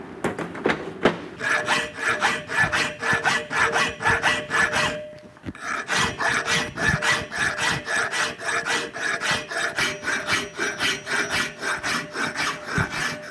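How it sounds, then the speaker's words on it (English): Hand file rasping back and forth on metal for a one-off bicycle stand in a workshop, a steady rhythm of close, scraping strokes with a brief pause midway, no talking. "you notice how I'm filing along? So the file is going forward, but it's also going along."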